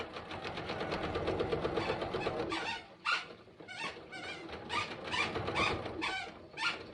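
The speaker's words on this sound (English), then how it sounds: "it will get sewn into our seam." A sewing machine stitches the front panel seam of a backpack, running in a steady rapid whir for about three seconds, then continuing in short repeated bursts with brief pauses between them.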